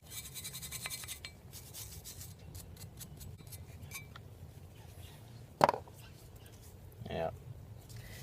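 A brush scrubs dust off the brake caliper springs of a 2003 Suzuki Grand Vitara 2.5 V6, giving close, soft scratchy strokes in quick bursts early on, then two sharper scrapes or knocks near the end.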